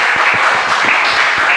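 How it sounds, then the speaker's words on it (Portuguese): A church congregation claps during a Portuguese-language evening worship service, a dense burst of applause at close range, continuous and fairly loud for the short moment. "aplaudimos o Senhor bem forte nessa noite"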